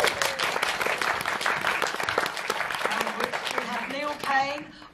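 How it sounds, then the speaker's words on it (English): An audience claps for a guest being introduced on stage, steady and fairly close, with a voice talking over it toward the end. "Give her a round of applause."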